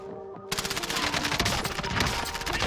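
Dense rapid gunfire from a shooter video game in Plunder mode starts abruptly and continues as overlapping automatic bursts, loud and sustained.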